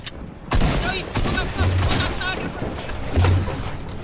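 Rapid automatic gunfire from a minigun in a video game, dense bursts of shots sustained across the clip at fairly close range, with players talking over it.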